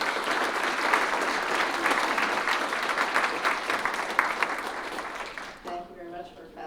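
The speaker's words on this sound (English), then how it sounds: "let's give another round of applause for our speakers" Sustained audience applause after a library book talk on stock-market short-termism, steady clapping filling the room for several seconds before tapering off as a voice begins to speak.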